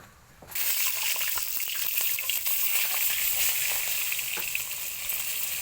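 Eggs drop into hot oil in a wok and set off a sudden loud sizzle, followed by continuous close frying crackle with occasional sharper pops.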